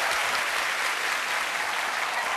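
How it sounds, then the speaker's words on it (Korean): A studio audience at a televised Korean comedy show applauds, a dense, sustained wash of many hands clapping together at an even level throughout. "박수 한번 보내주세요."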